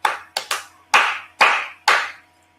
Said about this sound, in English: when you clap this rhythm